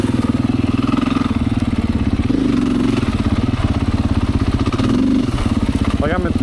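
A Beta 500 four-stroke dirt bike lugs in third gear at very low RPM and nearly stops, its loud, steady, rough thumping close and continuous on a trail ride, with a rider talking over it.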